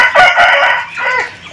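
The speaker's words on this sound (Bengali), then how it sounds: "মুরগিগুলো ছাড়া হয়ে গেছে" Aseel chickens and a rooster let out in the yard, loud close clucking and crowing calls in a short burst, one call rising and falling near the end.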